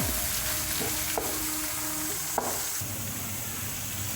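Garlic and ginger browning with onions in a pan for chicken biryani, giving a steady close sizzle with a couple of sharp utensil clicks and a faint tonal hum underneath, no voices.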